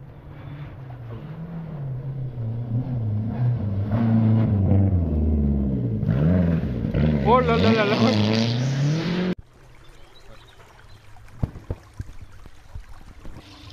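A Porsche rally car races past on a gravel special stage of the 2022 Rallye Castine Terre in Occitanie, its engine rising and swelling loud as it nears, then dropping away abruptly, leaving quieter ambience and faint spectator voices.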